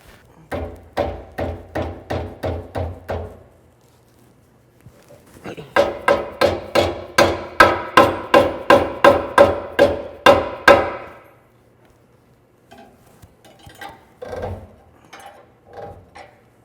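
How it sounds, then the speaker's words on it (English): A rubber mallet knocks poly bushings into the rear suspension of a Chevrolet C-10, landing as a run of about seven quick, close blows, then a longer steady series of around fifteen, then a few lighter taps. "Let me get a rubber mallet here, because sometimes those poly bushings are a little tight."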